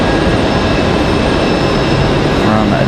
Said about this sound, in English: Here's our A320 from Minneapolis.